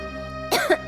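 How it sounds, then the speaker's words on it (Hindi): A woman gives a brief harsh cough, two quick bursts close up, following a sustained droning musical tone in a devotional drama. "रात से बहुत खांसी हो रही है"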